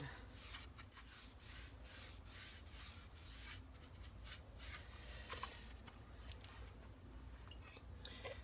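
A rag wipes finish onto a wooden succulent plant holder with faint, continuous rubbing strokes, quiet and close, with no talking.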